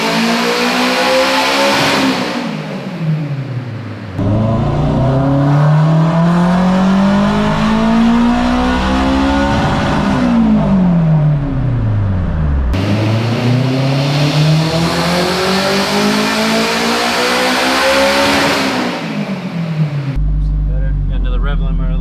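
A turbocharged Acura RSX engine with a quarter million miles revs hard through repeated loud pulls on a tuning run, the pitch climbing and dropping in long sweeps, with talk over the roar.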